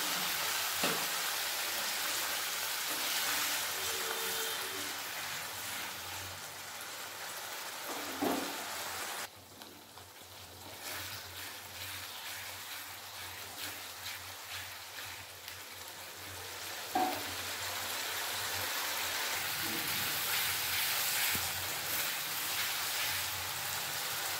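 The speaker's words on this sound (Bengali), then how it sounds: "আমি গরম জল দিয়ে মশলাটা কষিয়ে নেব ভালোভাবে।" Spice paste sizzling in a pan as hot water is added while cooking Bengali egg and potato dalna, a soft continuous crackling hiss with a few faint clinks, steady throughout.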